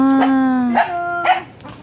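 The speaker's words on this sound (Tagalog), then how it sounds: "At nandyan ngayon ang aking mga aso." Dogs at a rural estate bark and howl close by, a drawn-out howling tone followed by a few sharp barks and yips across the moment, loud and alone without talk.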